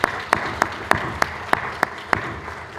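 Audience applause after workshop summaries at a conference, heard as a few sharp, evenly spaced claps close by with a faint wash of clapping beneath.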